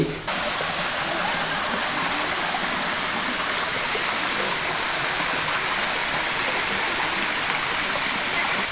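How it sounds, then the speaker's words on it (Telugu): Small streams run over rock slabs in green hillside woodland near a valley, giving a continuous broadband rush of water that stays loud and even throughout with no voices. "రాతి బండల మీద చిన్న చిన్న ఏరులు ప్రవహిస్తూ కనులు విందు చేస్తాయి"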